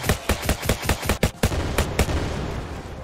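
Gunfire in a zombie shooter game as shots break wooden crates, about ten sharp reports in a quick irregular burst over the first second and a half, then a few spaced shots over a steady droning background.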